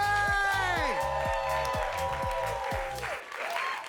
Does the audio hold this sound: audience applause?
yes